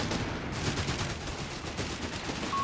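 MG42 machine gun fire in Company of Heroes 3, a World War II battle between German and British forces: a dense, unbroken rattle of automatic gunfire sustained at steady loudness throughout, with no voices.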